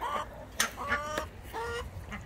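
Chickens cluck and chatter nearby among mulberries in Phoenix, several short rising calls and soft clucks overlapping in an uneven rhythm.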